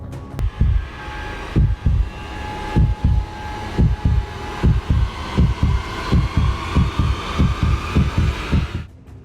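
A heartbeat sound effect thumps in a steady, fairly quick double-beat rhythm, loud and close over a low hum, with no voices.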